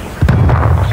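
A grenade blast in Call of Duty: Black Ops Cold War during a Hardpoint match, a sharp close thump followed by a heavy, sustained low rumble that fills the rest of the moment.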